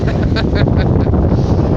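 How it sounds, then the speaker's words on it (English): Strong wind buffets the microphone in a constant low roar on Cagdanao Island, El Nido, Palawan, Philippines, with a voice faintly audible beneath the gusts. "it is so windy, you guys"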